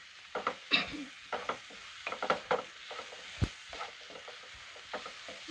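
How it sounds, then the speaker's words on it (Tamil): Egg noodle mixture stirred in a kadai, spatula scraping and clinking against the metal in scattered strokes over a soft sizzle, close and fairly quiet with no talk. "இது நல்லா மிக்ஸ் ஆகிடட்டும்"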